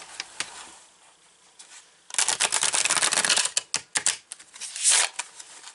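A tarot deck gets a rapid, dense run of papery card flicks and slaps. The burst starts suddenly after a quiet stretch and stays close and crisp, with no talking.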